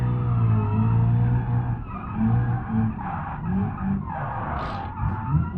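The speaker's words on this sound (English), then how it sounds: "This is my first time doing a drift since the update, so like an actual drift challenge" A car drifting in BeamNG.drive on the West Coast USA map, engine droning with long, loud tire squeals that rise and fall in waves as the slide carries on.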